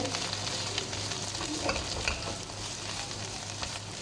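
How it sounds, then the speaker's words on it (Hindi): Bottle gourd halwa stirred with a spoon as it cooks, a soft steady sizzle with faint scraping throughout, no voices. "वक्त के साथ हम इसके चम्मच हिलाते रहे।"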